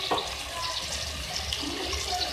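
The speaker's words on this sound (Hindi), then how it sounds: "इसके अंदर मैं बिल्कुल थोड़ा सा पानी ऐड करूँगी, बिल्कुल थोड़ा सा" Water poured in a small splash into a pan of coriander and turmeric masala while cooking beef aloo gosht korma, a brief soft stream of liquid with a steady wet hiss, no talking.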